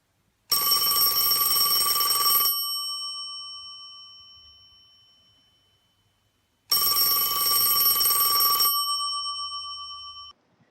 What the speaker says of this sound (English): The pink princess phone rang so hard it shook the nightstand.